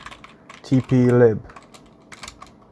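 Keyboard typing clicks in a brief burst, partly covered by a short loud voice-like sound in the middle, then scattered quieter key taps.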